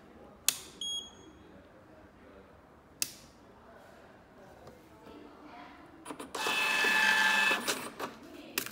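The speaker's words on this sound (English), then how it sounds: "you can do a self-test print to see the receipt" Receipt printer running a network self-test print: a few sharp clicks and brief tones, then a steady buzzing print burst of about two seconds, close and moderately loud in a quiet room.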